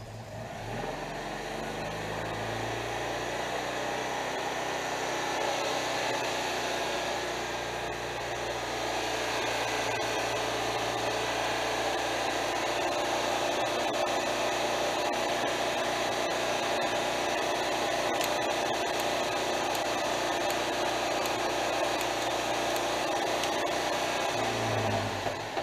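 A Citroën 2CV engine accelerates and revs steadily for a long stretch, a constant loud drone that rises slightly and holds, heard up close with no voices.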